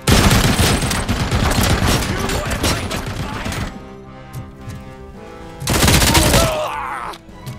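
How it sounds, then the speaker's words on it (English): Dense bursts of rapid gunfire in the RoboCop: Rogue City game, loud rattling volleys, a quieter pause with low rumble, then another sharp burst of shots before fading. "They have the fucking guns to do big damage to RoboCop."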